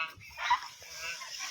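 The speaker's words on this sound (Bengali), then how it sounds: "দেখুন আমার হাঁসগুলো দৌড়ে দৌড়ে পানিতে নামতেছে।" Domestic ducks on a village pond, heard as a few short, fairly faint honking quacks amid soft rustling.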